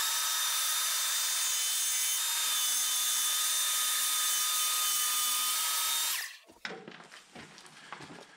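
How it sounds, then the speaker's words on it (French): Plunge saw with a new ripping blade cuts deep into an oak beam, a loud sustained whine that winds down after about six seconds, followed by scattered knocks and handling noises. "je vais déjà faire une entaille profonde avec ma scie plongeante"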